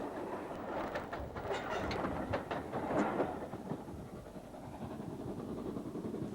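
A Schools Class steam locomotive, 30915 Brighton, hauls the Royal Train past at a distance, wheels clattering over the rails with a rising and fading roar, fairly faint.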